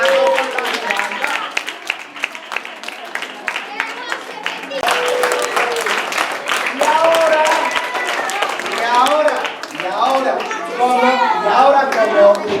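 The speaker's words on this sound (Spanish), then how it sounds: "otro aplauso para las actrices que quedan un rato con la Giralda" Audience applause for actresses at a Spanish-language performance, lively clapping mixed with crowd chatter and children's voices, with people talking throughout.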